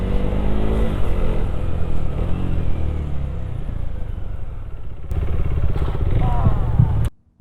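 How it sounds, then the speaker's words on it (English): Honda Goldwing motorcycle rolling past on an Indian road, a loud rumbling engine note with clatter and revving rising toward the end before cutting off abruptly. "अपना Goldwing just casually rolling"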